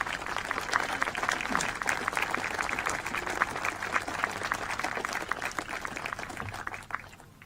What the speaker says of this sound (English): So a round of applause and lots of love for our elders.